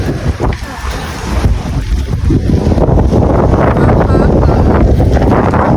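Strong waves and wind batter a boat off Iligan City, Lanao del Norte, with loud, continuous rushing surf and heavy wind buffeting the microphone, building to a steady roar.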